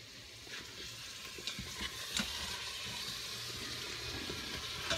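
Beef and vegetables sizzle in olive oil in a pan, a quiet, steady frying hiss broken by a few soft clicks of stirring, with nobody speaking.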